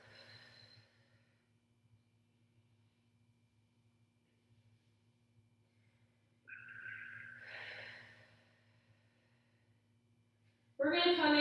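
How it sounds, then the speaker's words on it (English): An exhale and an inhale through the nose and mouth during a Pilates session, soft and close with a short clearer breath near the end, under a low steady hum. "Take a nice deep breath, inhaling through the nose and exhaling through the mouth"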